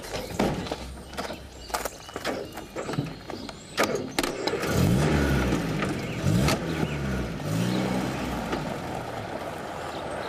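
A car rumbles and drives off, with low engine noise rising and varying under clattering, knocking transients, fairly close and steady throughout with no talking.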